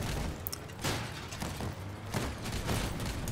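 Weapon fire from armed vehicles in the combat game Crossout, a run of booming shots and rattling bursts with mechanical clanks, loud and close, no talk.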